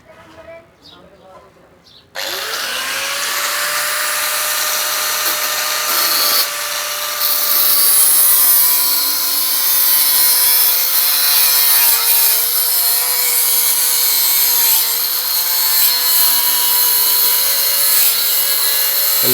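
A power tool cuts through a sandwich panel during electrical work on an oxygen plant, starting abruptly after a few seconds of quiet and then running as a loud, steady grinding whine that wavers in pitch, with faint talk underneath.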